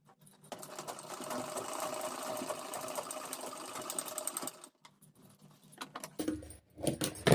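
A sewing machine runs in one steady stitching burst while a blouse shoulder seam is sewn, then stops, followed by a few faint handling clicks and rustles.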